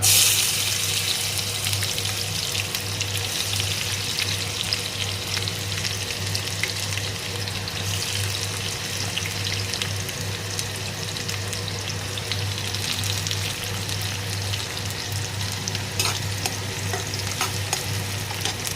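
Chopped onions sizzle steadily in hot oil with cumin and mustard seeds in a pan while browning for a sweet-sour tomato chutney; a continuous, even frying hiss with a low hum beneath, no voices.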